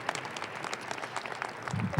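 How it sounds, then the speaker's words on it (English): An audience at a city community event claps in a steady patter of many hands, moderately close and sustained for the whole stretch. "So let's give Mayor Michael Hancock another round of applause"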